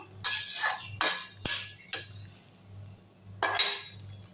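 A metal spoon stirs and scrapes masala in a cooking pot, giving several bright clinks at irregular intervals over a low, steady background hum.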